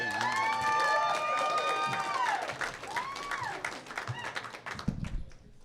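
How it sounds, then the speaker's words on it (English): Applause and cheering from a comedy club audience greet a comedian arriving on stage, loud at first with a drawn-out whooping shout, fading toward the end as a voice begins over the crowd. "Put your hands together for Brandon Wright, everybody."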